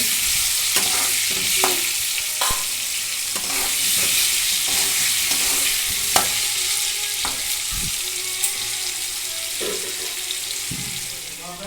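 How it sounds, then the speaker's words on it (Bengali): Continuous loud frying sizzle of potatoes with repeated scraping and clacking of a spatula stirring in a pan, close up, no talking. "এখন আমি আলুটাকে লাল লাল করে ভেজে নেব"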